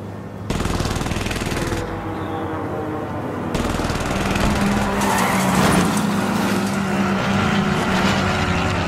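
Vehicle driving in the game Warzone Vanguard, a loud steady engine drone that cuts in abruptly and rises in pitch, with faint rattling gunfire mixed in and no talk.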